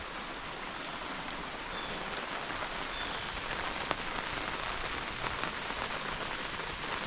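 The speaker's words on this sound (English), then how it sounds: "Listen to it rain." Steady rain patters on an inflatable tent overhead at a campground, a soft continuous hiss of drops on the thin surface with no voices.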